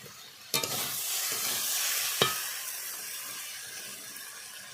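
Soybeans go into a pan of fried mixed vegetables for a Bengali panch mishali dish, giving two sharp thuds followed by a steady sizzling hiss as the pan is stirred.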